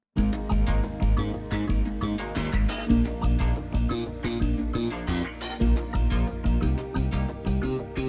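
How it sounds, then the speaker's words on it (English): A steady Korg Wavestation synthesizer groove with a pulsing, repeating arpeggiator bass pattern and bright plucked notes, loud and continuous with no voices. "Let's bring in the ARP, which gives us a bass line."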